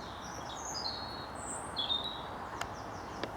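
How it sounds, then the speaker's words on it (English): Distant bird song, likely a chiffchaff, sounds as thin, high chirps faintly above steady wind and ambient hiss on a countryside footpath between Hurst Green and Chiddingstone Causeway in spring. "Chiff chaff in the background, omnipresent"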